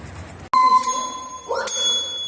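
A chime sounds for an incoming message, two bright bell-like dings a second apart, each ringing clearly and fading slowly.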